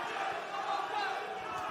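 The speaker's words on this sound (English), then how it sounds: "Vocal crowd here to support Demirkapu" A vocal fight crowd at a kickboxing event cheers and shouts steadily in support of a fighter, a dense, continuous roar of voices with no breaks.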